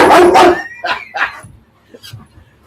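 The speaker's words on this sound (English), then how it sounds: "Listen to his bark." Indoor pet dog giving a few sharp close barks followed by softer yips and whimpers, with a faint voice nearby.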